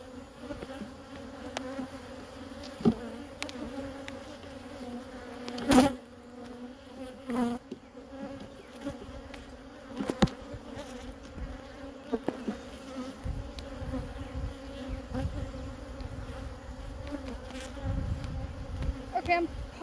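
Honey bees swarm around an open hive during a hive split, producing a dense, continuous buzzing hum close by, with occasional louder passes of individual bees and faint handling sounds.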